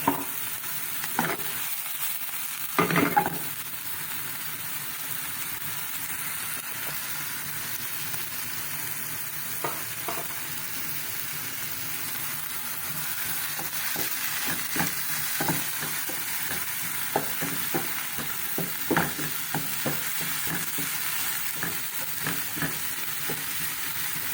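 Onion fries in a pan for chicken sandwiches with a steady, even sizzle throughout. Occasional faint clicks and scrapes of stirring sound over the constant hiss.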